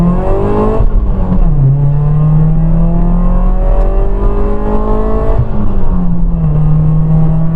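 A Ford Fiesta ST150 engine accelerating hard from first gear, its loud, steady note climbing in pitch and dropping briefly at each gear change before rising again, with no talk over it.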